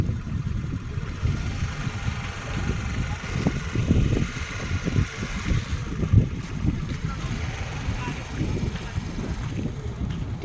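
Car driven during a driving lesson, with a steady low engine rumble and road noise throughout, some wind buffeting, and a voice occasionally talking over it.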